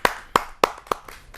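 A few people clap at a Hindi poetry gathering (kavi sammelan) to welcome a poet: four sharp, evenly spaced claps close by, then a faint trailing tap, with no talk.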